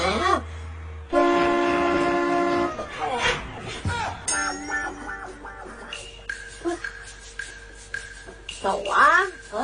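A car horn that sounds like a train horn gives one sustained blast, then a few shorter toots, loud and close, while people talk excitedly over it.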